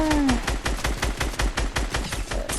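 Rapid automatic gunfire in a video game, a fast regular burst of shots, loud and close, with a brief voice at the start.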